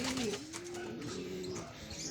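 Soft, low racing pigeon coos repeat in a gentle rolling rhythm, fairly close, with faint rustling and flutter behind them.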